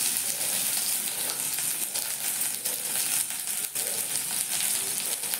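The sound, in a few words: sliced onion sautéing in a pan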